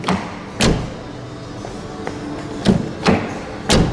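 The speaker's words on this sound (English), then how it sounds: "This is the first time I actually admire the sound of the Renault doors." Renault Austral car doors swinging shut several times, each a solid, muffled thump close by, spaced irregularly over a few seconds against steady outdoor background noise, with no talking.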